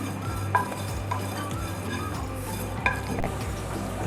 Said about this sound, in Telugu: కొద్దిగా చింతపండు వేయించి వేసేసుకుందాము